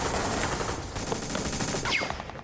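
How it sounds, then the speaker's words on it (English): Uzi and AK-47 automatic gunfire recorded for the 2005 film Munich, dense rapid bursts of loud, close shots with crackling echoes throughout. "the Uzis and AK-47s."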